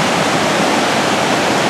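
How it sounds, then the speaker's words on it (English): Waterfall roaring as a steady, loud, broadband rush of falling water heard up close, unbroken and without voices. "I love that waterfall"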